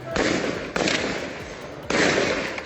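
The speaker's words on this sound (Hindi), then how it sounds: "फायरिंग की आवाजें पीओके के सन्नाटे को चीर रही है।" Loud, rapid bursts of gunfire crackle in three sustained volleys, close and harsh, separated by short gaps, in Kotli, Pakistan-occupied Kashmir.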